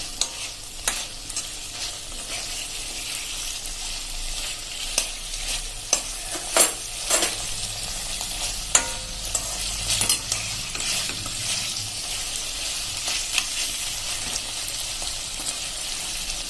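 Ridge gourd sambharo with chopped green chillies is stirred in a pan, a steady soft sizzle overlaid by repeated close scrapes and clinks of a spoon against the metal, no talking.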